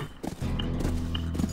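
Horse hooves clip-clopping at speed in the Western shooter Call of Juarez: Bound in Blood, a steady rhythmic beat of galloping close by under game music, with a faint whinny.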